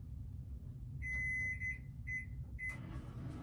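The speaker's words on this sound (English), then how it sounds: "So this is going into the microwave, the chocolate chips and the peanut butter." A microwave oven holding chocolate chips and peanut butter gives a series of high electronic beeps while setting the timer: one long tone followed by shorter ones, over a low hum from the room.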